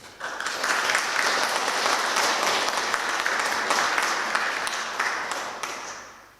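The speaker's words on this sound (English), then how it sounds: "express your thanks for the support you've received by acclamation," A graduation ceremony audience at Griffith College Cork breaks into loud, dense applause that swells quickly, holds steady for several seconds, then tapers off, with no cheering voices standing out.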